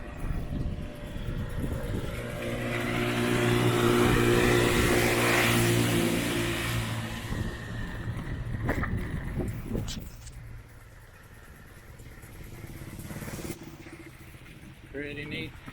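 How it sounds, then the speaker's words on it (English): Motorbikes pass on a village road on Coconut Island in Vietnam, one engine swelling loud and close before fading, with fainter engine noise and a brief horn later. "Got some motorbikes."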